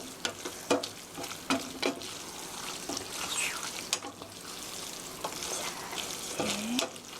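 Tomato sauce being stirred in a pan for spaghetti, with soft scraping strokes and a low sizzle from the heat, a few sharper clinks of the utensil against the pan, close and fairly quiet.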